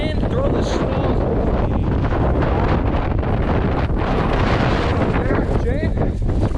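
Heavy wind buffeting the microphone beside the Chicago River in Chicago, Illinois, a loud, continuous roar with steady rumbling gusts and no break throughout.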